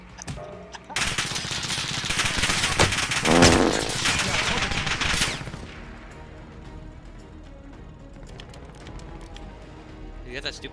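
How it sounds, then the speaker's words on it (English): Light machine gun fire rattles in rapid bursts in a video game, loud and dense for several seconds before fading to sparse shots, with players talking over it. "You got that stupid LMGs right there."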